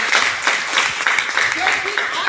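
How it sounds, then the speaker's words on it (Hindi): Audience at an RCM business meeting in Boisar clapping for a speaker, a brisk continuous patter of hands, fairly close, with a voice talking over it. "एक बार इनके लिए जोरदार ताली"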